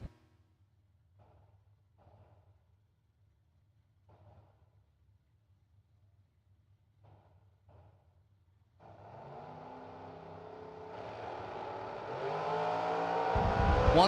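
Drag race cars, including a topless Corvette, launching at a $100K drag racing event: quiet distant rumbles and faint thuds at first, then a loud engine roar swells and keeps building with rising harmonic tones near the end.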